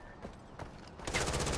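Gunfire in the video game Far Cry 4: a few scattered shots, then a denser rapid burst toward the end, moderately loud against a busy game background.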